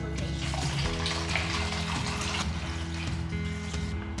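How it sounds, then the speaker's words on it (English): Water runs steadily from a tap into a plastic bottle through a funnel for a tornado-in-a-bottle science experiment, a continuous close gurgling flow with a low hum underneath. "you're going to fill it up with water up to here"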